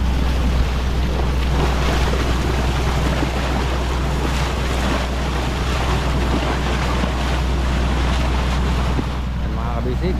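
A boat out on the Pacific sea off Mindanao, with steady engine rumble beneath broad wash of waves and heavy wind buffeting the microphone, loud and continuous throughout.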